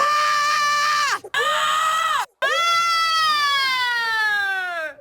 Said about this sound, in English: You can say, oh, woman, shouting, and then click generate.